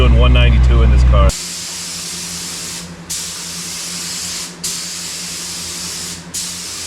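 Spray paint hisses steadily onto a car's gas cap door, in three long continuous bursts with brief pauses between them, close and loud, after a short stretch of talk at the start.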